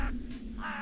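Crows caw in the snowy countryside near a forest in the game Tiny Bunny, a brief harsh call standing alone and close, with no talk over it.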